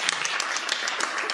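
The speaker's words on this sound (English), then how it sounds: "let's hear one more round of applause" Applause fills a school board meeting room, a dense, continuous patter of many hands clapping at a steady level for the whole moment.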